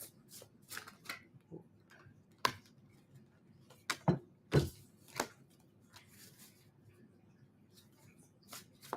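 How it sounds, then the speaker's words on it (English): Cards being shuffled in a series of quick riffles and sharp snaps, close by, with soft background noise and no talking. "3 more shuffles. 2 more shuffles."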